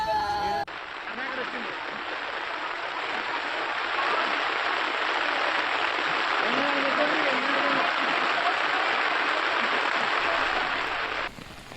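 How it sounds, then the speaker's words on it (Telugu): Heavy downpour flooding the town of Medak, a steady broadband wash of rain holding for about eleven seconds at moderate level, with a faint voice or two murmuring underneath. "మెదక్ జిల్లా కేంద్రాన్ని వాన ముంచెత్తింది."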